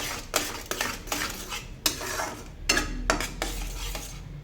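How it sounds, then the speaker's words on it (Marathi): Ginger-garlic paste being stirred into fried tomato and onion for a soybean tomato pulao, with repeated metal spoon scrapes and clanks against the pan over a faint sizzle. "त्याच्यामध्ये 1 चमचा आता लसूण अद्रक पेस्ट टाकून घ्यायची आहे. छान परतून घ्यायचं आहे"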